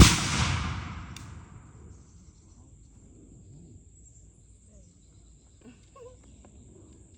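A single loud musket shot rings out at a Kings Mountain historical firing demonstration, a sharp blast at the start that rolls away into a long fading echo, leaving quiet outdoor ambience with insects and faint birds.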